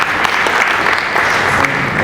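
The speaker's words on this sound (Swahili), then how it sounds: "Makofi tena kwake" Audience applause at a pension scheme annual general meeting, a steady burst of many hands clapping close by for the full stretch, with no talk over it.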